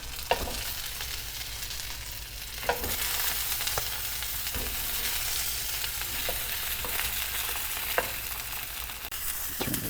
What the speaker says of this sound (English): Start by sticking some sausages on here.